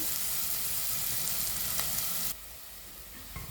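Onions sauté in a pan for mutton kothu, giving a loud, dense hiss of sizzling that suddenly drops to a quieter fry partway through, with faint stirring.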